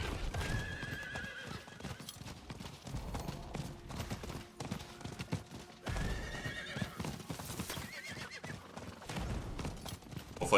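Diablo IV game audio of a horse whinnying repeatedly over steady clip-clopping hooves, fairly loud, with busy layered effects throughout.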